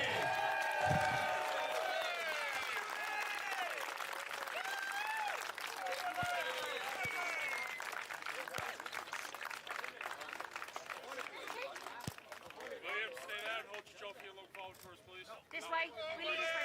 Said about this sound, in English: give a round of applause for William Hardy